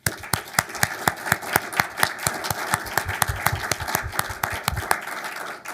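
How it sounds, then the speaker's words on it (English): Applause from an audience celebrating startup founders at a demo day event, a dense run of sharp claps with a few strong individual hand claps standing out, steady throughout before cutting off at the end. "A round of applause for all of you."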